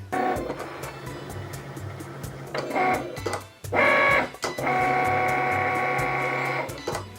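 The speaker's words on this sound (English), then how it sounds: "once this Cricut logo light starts blinking, it is ready to begin cutting." A Cricut cutting machine works its way across a loaded mat, its motor humming and whirring in bursts with rapid ticking carriage movements, pausing briefly between passes, close and steady with no voices.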